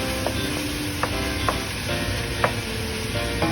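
Onions and garlic sizzle steadily in a pan for pork stew, a close continuous frying hiss broken by a few light clicks of stirring.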